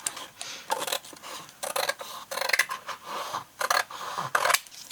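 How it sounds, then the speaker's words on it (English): Scissors snip through paper in a quick run of short, crisp cuts, close and fairly quiet, with brief pauses between bursts. "So I'm gonna cut this."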